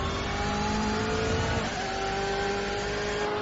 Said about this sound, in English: It's got side exit exhaust just ahead of the door on the right hand side, which contributes to that distinctive noise